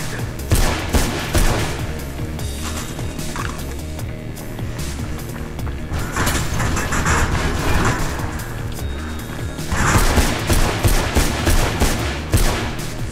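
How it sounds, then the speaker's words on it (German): Rapid machine gun fire in Mirror's Edge, loud sustained bursts that swell and fade over the whole stretch, with vehicle rumble and game noise beneath. "Oh shit, Faith, die haben ein Maschinengewehr."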